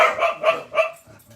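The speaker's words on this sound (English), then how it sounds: "You barked even before I said hello, Benji." Benji the dog lets out three sharp, close barks in quick succession, followed by a brief low grumble.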